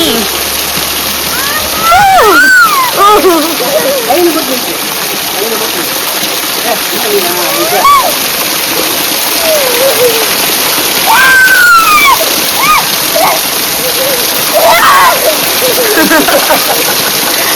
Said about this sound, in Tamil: இந்த ஃபால்ஸ் தண்ணியில கீழே பார்க்கும்போது தான் தெரிஞ்சது.